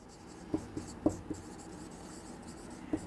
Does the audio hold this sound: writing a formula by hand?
yes